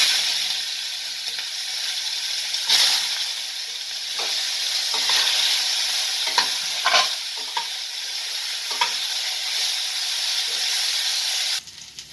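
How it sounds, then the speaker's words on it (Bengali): Steady loud sizzling of cauliflower frying in hot white oil, with occasional scraping stirs and spits, continuing throughout before cutting off near the end. "আমি সাদা তেল দিয়েছি ফুলকপিগুলো ভেজে নিচ্ছি"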